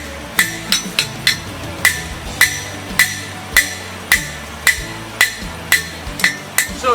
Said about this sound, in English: I'm hitting with the flat side of my hammer.